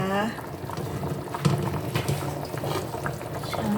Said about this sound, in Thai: เอาละ ช้อนฟองออกหน่อยนะคะ